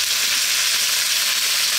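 Eggplant going into a hot pan of frying potatoes for an aloo baingan curry, heard as a loud, continuous bright sizzle with no distinct separate impacts, no voices present.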